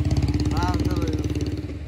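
A motorcycle engine idles with a steady low throbbing pulse close by, while a voice speaks briefly over it.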